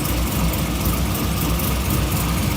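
A supercharged work van engine idles steadily after being restarted, a low continuous rumble at moderate level with no voices.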